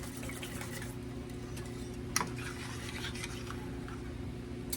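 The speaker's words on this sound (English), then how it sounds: "So give it a scrape, give it a stir, and give it another scrape" A spoon stirs and scrapes thick coconut cream pudding around a pot, giving soft, continuous scraping under a steady background hum, with one brief sharper clink partway through.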